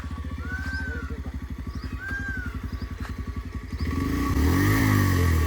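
A motorcycle idles close by in a steady fast putter that deepens and grows louder as it revs near the end, with faint chirps above it.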